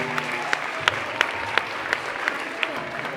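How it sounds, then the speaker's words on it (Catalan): An audience applauds continuously at a children's council event in El Masnou, a steady wash of clapping with a few sharper individual claps standing out, close and fairly loud. "Un fort aplaudiment pel Ferrer i Guàrdia."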